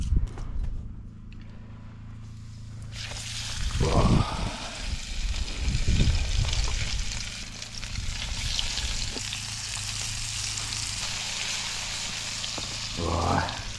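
Onion frying in a hot pan at a camp kitchen on Bolshoy Lyakhovsky island in the Arctic, a steady close sizzle with clatters of handling, under occasional talk.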